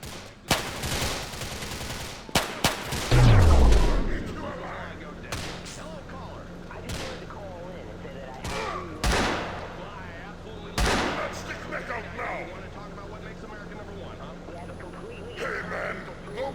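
Gunfire in the game GTA IV comes in several sharp separate shots spread across the clip, with a heavy low boom early on, ambient game noise in between and a voice speaking at times.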